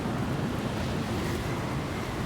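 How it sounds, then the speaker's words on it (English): Strong, steady wind gust roaring continuously in the climbing game Jusant, a broad rushing blast with no let-up and no voices. "very strong gust"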